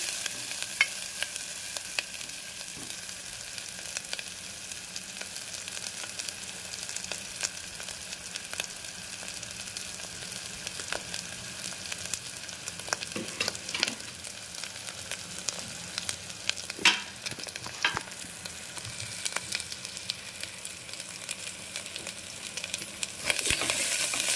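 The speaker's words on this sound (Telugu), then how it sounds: "ఇవి బాగా వేగాలి. మసాలా కూడా బాగా నూనెలో వేగాలి." Green chillies and masala spices fry in oil for a cucumber mutton curry, giving a soft, continuous sizzling hiss with scattered faint crackles throughout; quiet and steady, with no talking.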